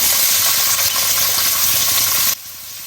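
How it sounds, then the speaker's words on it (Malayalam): Sliced onion sizzles in coconut oil in a hot pan, a steady loud hiss that drops off abruptly near the end. "ഇതിലേക്ക് വലിയ ഉള്ളി ചേർത്ത് കൊടുക്കാം."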